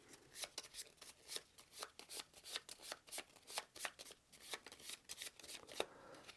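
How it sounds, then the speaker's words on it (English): Encounter cards for the Shadows of Brimstone board game are shuffled up close, a quick run of crisp riffling bursts repeating in a steady rhythm, quiet and alone. "So we'll give these a shuffle."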